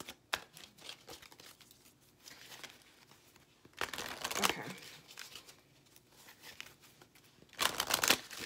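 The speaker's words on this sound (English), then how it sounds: "Let me pull my oracle cards for you." Oracle cards shuffled and drawn in bursts of papery riffling and crinkling, loudest around the middle and end, with quieter handling in between and no talk.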